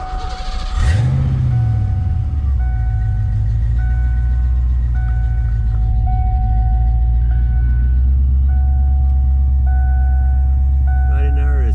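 A truck engine idles high while out of gear, a steady loud low rumble with a constant hum held throughout and a brief rev near the start.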